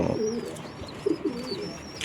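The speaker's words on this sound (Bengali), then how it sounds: "এই যে কবুতরটা, বাচ্চা কবুতর" Young pigeons coo softly in a few low, throaty bursts, two of them close together near the end, with faint higher chirps above a quiet background.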